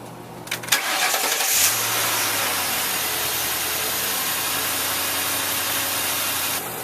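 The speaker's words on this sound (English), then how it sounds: "I'm going to go ahead and run the motor just to" A detailed Chevy car engine cranks briefly with a whirring starter, catches, and settles into a steady, loud, close idle that runs on without interruption.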